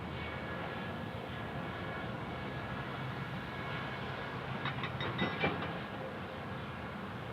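An airliner, a DC-9 or Boeing 717, passes at Kansas City International Airport with a broad, steady jet roar at moderate distance that holds throughout.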